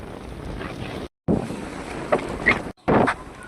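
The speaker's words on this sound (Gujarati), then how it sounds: "ખેડમાં કેવો પવન પણ વાતો હતો." Strong wind blowing across open farmland in Kutch, heavy gusts roaring and buffeting the microphone in bursts with brief dropouts, loud and close with no voices.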